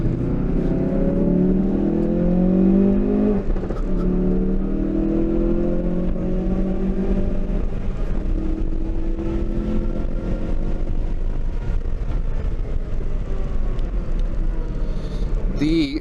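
2019 Mustang GT lapping a race track, engine note rising and falling through gears from inside the cabin, with someone talking over the steady drone.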